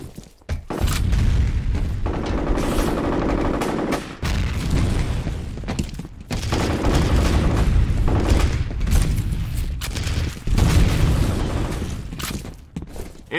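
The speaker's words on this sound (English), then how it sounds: "Grenade out. Fire in the hole!" Grenade explosions in a team shooter game: repeated heavy booms and roaring blasts with crackling debris, loud and sustained, broken by short gaps between blasts.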